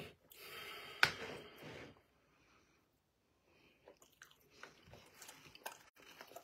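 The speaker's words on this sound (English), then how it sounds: "Chew that food up now." Someone eating breakfast chews food close up, with wet biting and mouth noises, a sharp crunch near the start, a silent pause, then scattered soft chewing sounds.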